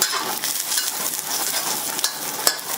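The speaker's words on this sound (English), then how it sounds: "So just stir fry that for about 15 seconds." Ginger slices and chopped garlic stir-fry in a hot wok with a dense, continuous crackling sizzle, close and bright, broken by a few sharp scrapes.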